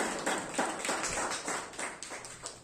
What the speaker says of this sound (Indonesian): Kasih tepuk tangan yang meriah teman-teman